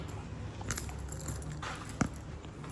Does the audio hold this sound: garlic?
no